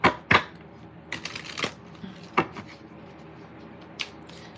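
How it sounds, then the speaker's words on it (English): Tarot cards are shuffled by hand in a few quick riffles and slides, close and crisp, with irregular bursts separated by short pauses and no talking. "I'm shuffling right now."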